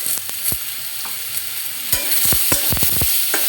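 Bottle gourd with green chilies is stirred in a frying pan, a spatula scraping and knocking against the pan in a string of close strokes over a steady sizzle.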